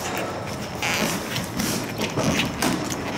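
Clutch cable adjuster being turned on a Yamaha Banshee, faint clicking and creaking mechanical sounds in small irregular bursts over a steady hiss, close and quiet.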